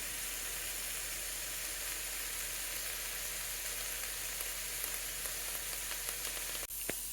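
Frozen shrimp sizzle in a hot pan for fajitas, a steady, loud, dense hiss that runs unbroken with a faint click near the end.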